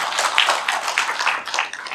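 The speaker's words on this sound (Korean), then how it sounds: "여러분 큰 박수 부탁드립니다." Clapping from a small audience at a Korean ceremonial event, a loose, uneven patter of hand claps fairly close and without talk.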